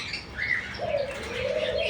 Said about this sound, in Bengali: এটা হচ্ছে সিরাজ কবুতর, অনেক বড় বড়।